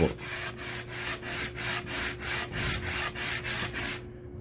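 An Optimus water block is lapped on sandpaper with rhythmic back-and-forth rubbing strokes, about eight even scrapes in steady succession, close and fairly quiet, with no talk.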